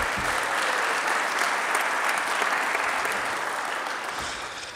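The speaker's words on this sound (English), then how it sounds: "a round of applause." Round of applause from the audience at a city government inauguration ceremony: sustained, even clapping that holds steady and then slowly tapers off, with no voices over it.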